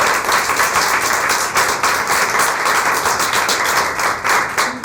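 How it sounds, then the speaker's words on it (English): An audience at a women's enterprise event breaks into a full round of loud, dense applause, many hands clapping steadily and close with no talking over it. "She deserves a full round of applause."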